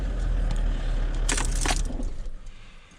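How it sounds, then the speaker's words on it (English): A car engine idling steadily with a low rumble, then shutting off near the end as the hum fades to quiet, with a brief jangle of keys in the middle. "I'll turn the car off and we'll have a look."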